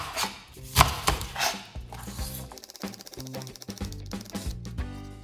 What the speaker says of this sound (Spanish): Lo que vamos a cortar acá es media cebolla